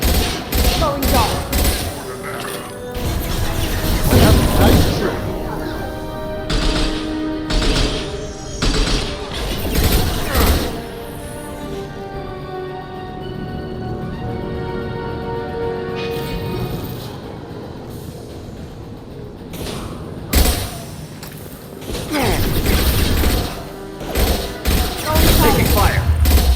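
Sustained gunfire in the sci-fi shooter Mass Effect 2, dense rattling bursts and thumps that surge, ease off briefly mid-way, then return loud and close.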